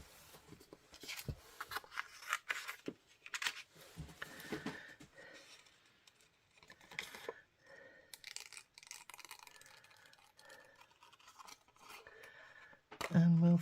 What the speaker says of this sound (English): And we'll fussy cut round there.